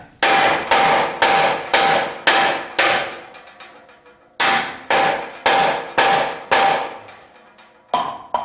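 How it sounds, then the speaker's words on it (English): A big hammer drives a bolt out of a 1976 Corvette trailing arm in loud, sharp metallic blows, four or five evenly spaced strikes, a pause, then another run of hits ringing briefly after each impact. "Let's try the big hammer."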